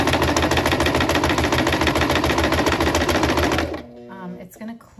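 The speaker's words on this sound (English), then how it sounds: "So while I'm zigzagging," A sewing machine runs loud and close with a rapid, even mechanical chatter, zigzag-stitching along a fabric edge for a dress, then stops abruptly. Only faint handling noises remain after it stops.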